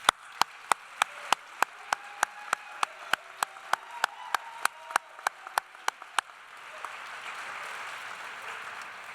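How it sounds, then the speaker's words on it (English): An audience at a La Verne and San Dimas teacher of the year awards ceremony breaks into applause, heard as a run of evenly spaced loud claps over a dense clapping wash before it thins to a softer murmur. "please join me in a well-deserved and enthusiastic round of applause for all of the Bonita Unified Award recipients"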